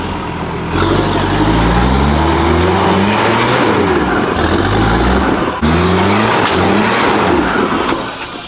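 A loud car engine revs up repeatedly, rising in pitch, cutting out briefly and then revving hard again, very close.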